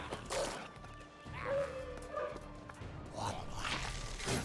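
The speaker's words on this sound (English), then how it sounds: "You have to release a few dogs here." Dogs in the medieval tactics video game Battle Brothers give several short barks and yips, moderately close, scattered across a few seconds with thumps of combat in between.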